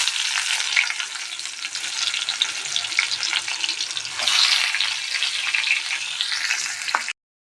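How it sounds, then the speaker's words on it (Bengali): Onions frying in hot oil in a pan, a steady, loud, close crackling sizzle that runs unbroken and then cuts off abruptly near the end. "এবারে তেলে আমি পেঁয়াজ দিয়ে দেবো।"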